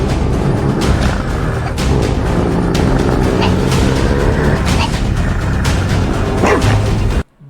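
A person loudly imitates a dog barking, with a string of rough, continuous bark-like yelps close to the microphone, cutting off abruptly at the end.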